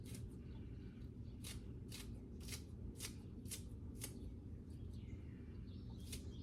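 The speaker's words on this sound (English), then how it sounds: "I think using scissors on these is easier than cutting them." Scissors snip through dumpling wrappers in a series of sharp, crisp cuts, roughly one every half second with a pause near the end, close by over a steady low background hum.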